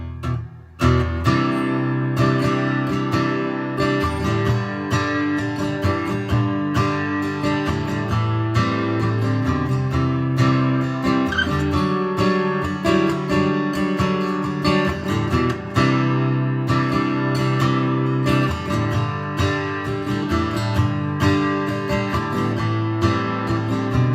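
Dense, full guitar music of the last chorus and outro of a song plays continuously at a steady loud level, with strummed chords and ringing notes, no talking.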